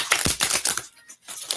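Quick papery riffling of oracle cards being shuffled, in two short bursts separated by a brief pause, close and fairly loud.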